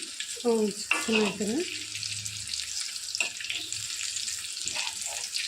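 Stuffed bitter gourd with peanut masala fries in a pan with a soft, steady sizzle. A voice talks briefly at the start, and the bubbling hiss continues alone afterward.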